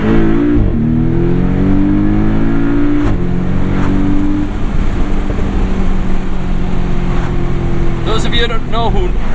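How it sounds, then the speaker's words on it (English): A 2017 Porsche 718 Boxster S with PDK gearbox, tuned by MTM, accelerating hard in sport mode, loud engine rising in pitch with quick gear shifts that briefly drop the revs, heard from inside the car. "I love how sport mode quickens up the shifts on the PDKs."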